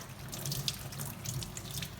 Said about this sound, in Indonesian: kita menyalakan keran air dan membasuhnya